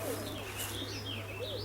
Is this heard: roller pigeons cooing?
yes